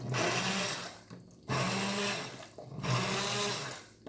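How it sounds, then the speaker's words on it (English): A blender whirs loudly in steady bursts, cutting out briefly between runs as it purees thick tomato basil soup. "You could put the whole thing into the blender"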